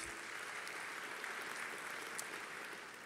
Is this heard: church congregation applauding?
yes